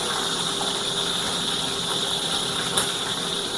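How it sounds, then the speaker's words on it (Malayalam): Small red shallots sizzle in hot olive oil in a pan: a steady, bright frying hiss holds evenly throughout, close and fairly loud, with one brief sharper crackle near the end and no talk. "ഓക്കെ, അപ്പോൾ എണ്ണ ചൂടായിട്ടുണ്ട്. ഇനി ചുവന്നുള്ളി അങ്ങോട്ട് ഇട്ട് കൊടുക്കുവാണേ."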